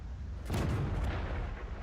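A tank cannon fires in World of Tanks during an M48A1 Patton battle, one sudden loud booming shot that rolls out and decays over about a second, with no talk.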